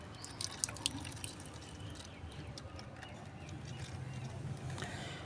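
Water poured onto peanut oil cake (groundnut cake) being soaked as a homemade NPK fertilizer, heard as a soft steady trickling and dripping with faint splashes, close by and fairly quiet, with no talking.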